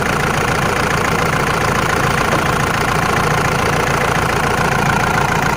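A Mahindra Bolero engine idles during diagnosis of a P0203 injector circuit fault, with one injector connector unplugged, producing a loud, steady, close mechanical rumble with an even rapid clatter and no pauses.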